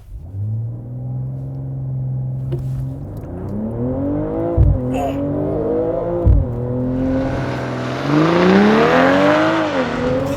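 A 2022 BMW M240i xDrive with its 3-liter turbo inline-six launches with launch control, holding a loud steady rumble before surging through rising, dipping gear-change sweeps, close and alone with rushing wind noise building toward the end.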